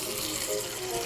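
Clear lamp oil pours into a cup, a short continuous trickling, gurgling stream at moderate loudness with no talking.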